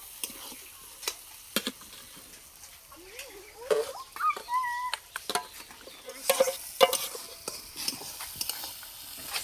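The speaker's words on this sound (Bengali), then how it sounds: "আর এদিকে মাছের ঝোল হচ্ছে" Fish curry cooks in a pot at an outdoor field picnic, with a soft continuous sizzle and bubbling broken by sharp clicks and stirring knocks, plus faint chirpy background sounds.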